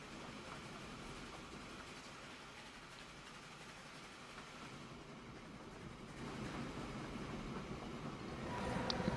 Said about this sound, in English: And here comes in a train, 31 on it, not too bad.